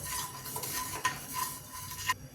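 Coriander and cumin seeds dry-roasting in a pan for sambar masala, stirred steadily with a spoon that scrapes and clinks faintly against the metal, with a soft continuous rustle and no voices.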